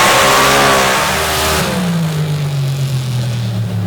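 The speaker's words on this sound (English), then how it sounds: "Racing in the dirt-built rear engine rail. 500 cubic inch Alan Johnson performance engine." A rear-engine dirt-built rail dragster with a 500 cubic inch Alan Johnson performance engine roars down the strip at a night drag race, loud and close at first, then its pitch drops as the car passes and pulls away.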